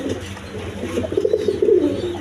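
A male Giribaaz Rasgolla pigeon coos close by, a run of soft, throaty rolling coos that swell in the second half over faint background noise, with no talking.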